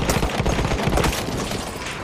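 Gunfire in the Battlefield 1 video game, a dense fusillade of overlapping shots at steady loudness through the two seconds, with no talk.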